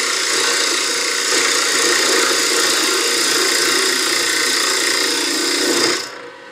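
A wood turning lathe cuts a birdhouse ornament, a steady, close scraping hiss of the tool on spinning wood that runs evenly for about six seconds and then stops abruptly.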